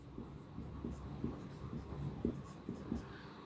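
A pen scratches on paper in short, rhythmic strokes while a geometry figure is drawn, close and soft, under a quiet room hum.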